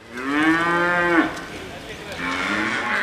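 Breeding-farm cattle mooing loudly and close, one long drawn-out low moo followed by a second, softer call, with no voices.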